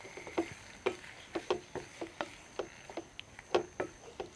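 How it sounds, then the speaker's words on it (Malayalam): Prawns stirred in a pan for basil coconut prawn curry, giving a quiet run of light irregular taps and scrapes over a soft, faint sizzle, heard alone with no talking. "പ്രോൺസ് ഇട്ട് ചെറുതായിട്ടൊന്ന് ഇളക്കി കൊടുക്കാം."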